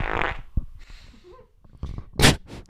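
A fart during a podcast recording, heard as a few close, sputtering bursts with short pauses between them and a louder final blast.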